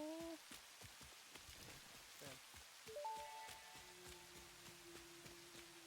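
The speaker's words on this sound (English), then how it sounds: "It is really raining." Steady rain patters on a surface throughout, with scattered drips and a few tonal hums and beeps layered over the wash.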